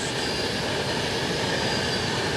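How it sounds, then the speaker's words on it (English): Avanti West Coast passenger train passing close by on a very wet day, a loud, steady broadband roar of wheels and carriages with faint squeal, filling the whole stretch. "Let's just check this train out. Avanti West Coast."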